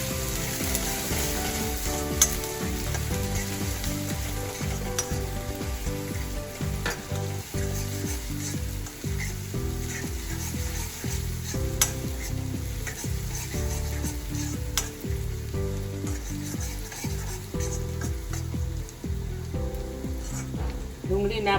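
Onion frying in oil with mustard seeds, asafoetida, curry leaves and garlic paste, a dense continuous sizzle full of rapid crackles and pops, close and steady throughout, with no voices.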